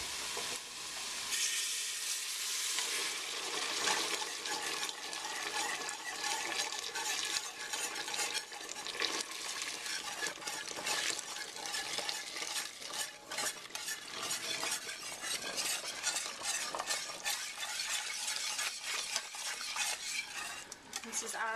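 A whisk scrapes and clatters rapidly around a pot as hot stock is stirred into a roux for chicken stew, a steady close rhythmic swishing with sizzling beneath it.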